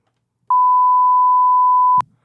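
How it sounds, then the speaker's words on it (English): A single steady censor bleep tone at about 1 kHz lasts around one and a half seconds, loud and clean, then cuts off with a soft thump and no talk around it. "That's the sound of a sensor when you swear"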